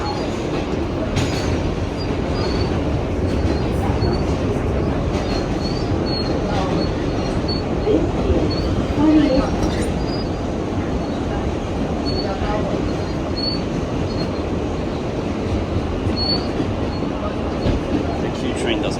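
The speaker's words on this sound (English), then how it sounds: "The Q train doesn't stop at 28th though, so it's gonna pass us." An NYC subway Q train rumbles through a station without stopping, a loud, sustained roar of wheels and cars with faint rhythmic clatter and occasional high squeals, running steadily from start to finish.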